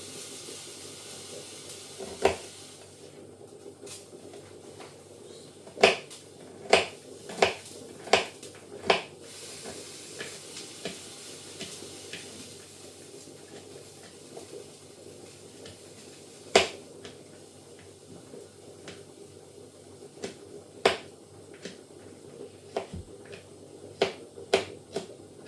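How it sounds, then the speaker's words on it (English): Garlic being chopped with a knife on a board, a series of sharp isolated taps spaced irregularly over a steady low sizzle from a frying pan nearby, with no talking. "next stage is to finally chop up some garlic"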